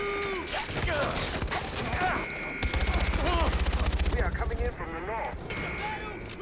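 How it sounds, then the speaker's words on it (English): Assault rifle fire in Far Cry 4, rapid bursts of automatic shots mixed with heavy thumps and game music, with a person talking over the action. "Get the assault rifle."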